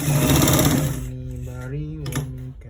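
A sewing machine runs fast and loud, stitching fabric on a quarter-inch seam, then slows and fades while a voice talks over the softer whir.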